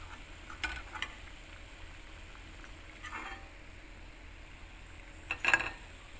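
Spinach bhaji (palak bhaji) fry quietly in hot oil, a soft continuous sizzle with a few faint utensil clinks, the last one near the end the most distinct.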